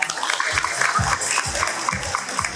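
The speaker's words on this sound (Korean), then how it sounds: "여러분 큰 박수로 맞이해 주시길 바랍니다" Audience applause welcomes a speaker onto the stage at the 2023 Seoul Money Show, an economics talk event. The clapping is dense and steady throughout, with low rhythmic thumps underneath.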